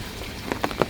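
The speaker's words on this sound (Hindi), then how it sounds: "बारिश हो रही" Rain falling in Mumbai, a soft steady patter with a few louder drops spattering near the end, faint and brief with no voices.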